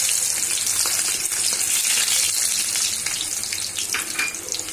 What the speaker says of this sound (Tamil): அதுல நாம வெட்டி வெச்ச இந்த இஞ்சி பூண்டு சின்ன சின்ன பீசஸா வெட்டி வச்சிருக்கோம் இந்த இஞ்சி பூண்டை போட்டுறலாம்